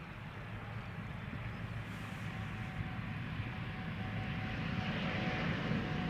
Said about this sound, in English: The Embraer 175 is getting awfully close to the runway.